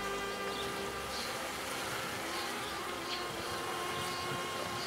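Honeybees hum around a small nucleus hive, a continuous even buzz filling the whole stretch at close range, with no voices over it.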